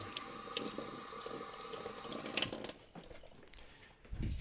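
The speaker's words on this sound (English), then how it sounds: "I'm going to rinse the evaporust off." Running tap water rinses Evapo-Rust off a part from a Turner 4 1/2 smoothing plane, a steady close hiss of flowing water that cuts off partway, followed by quieter trickles and a low thump.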